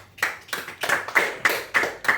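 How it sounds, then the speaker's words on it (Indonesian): In a micro-teaching class, a small group claps in unison for a student, about seven sharp, evenly spaced claps that sound close and distinct. "kasih tepuk tangan buat Arta"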